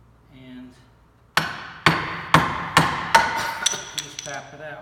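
Hammer striking a chisel to tap out wood for a cross lap joint, six sharp evenly spaced whacks growing softer, preceded by a brief low voice.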